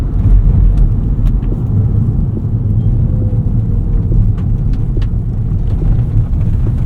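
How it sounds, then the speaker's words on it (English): Interior of a 2025 Rivian R1S electric SUV on the road, with a steady loud low rumble of road and suspension noise and occasional faint knocks and clunks throughout, no talking. "There is quite a bit of noise from the suspension in this, especially at lower speeds."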